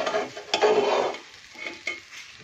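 Egg fried rice being stirred in a pan, a couple of scraping strokes with a soft sizzle underneath, close and moderately loud, then quieter clinks and stirring.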